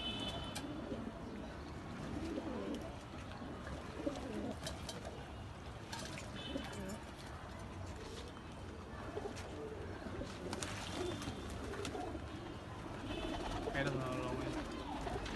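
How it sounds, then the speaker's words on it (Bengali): Pigeons coo softly and scattered wings flutter as the birds bathe in a tray on a hot day, faint and low beneath someone talking throughout. "এই দেখেন, কিছু উড়ানো কবুতর নর ছিল, এগুলা নামবে এখন গোসল করার জন্য।"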